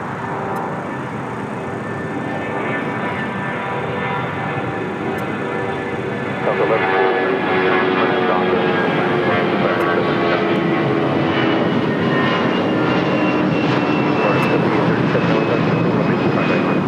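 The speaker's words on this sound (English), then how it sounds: "That old Northwest A320 now rolling down 25 right." A Northwest Airlines Airbus A320 rolls down runway 25 right at LAX on its takeoff run, a steady broadband jet roar with whining engine tones that swells louder about a third of the way in and holds strong to the end.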